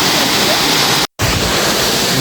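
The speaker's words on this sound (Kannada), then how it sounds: "ಇಲ್ಲಿ ನೋಡಿ ಫಾಲ್ಸ್ ಫೈನಲಿ ನಾವು ಬಂದಿದ್ದೀವಿ" A waterfall in Karnataka, reached on a school trip, roars as a loud, dense, continuous rush of falling water, cut by a momentary silent break before resuming at full strength.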